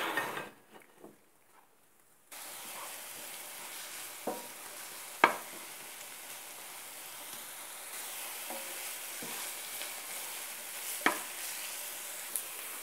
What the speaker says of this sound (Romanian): Pentru început o să prăjesc în ulei morcovul cu ardei.